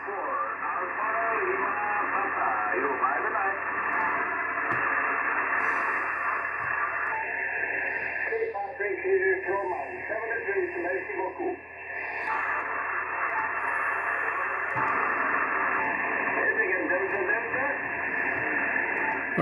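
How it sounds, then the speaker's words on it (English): Radio signal and noise on a Yaesu FT-891 transceiver: a steady, band-limited hiss with a faint, muffled voice signal running under it for the whole stretch. "Let's see if we can make this signal pop. But it also brings in the noise."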